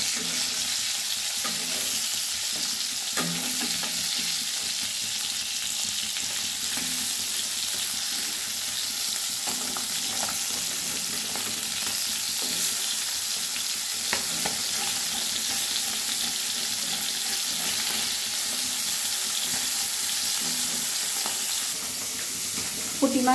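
Puti fish frying in hot mustard oil in a kadai: a steady, close, dense sizzle that continues evenly with faint stirring clicks and no voices.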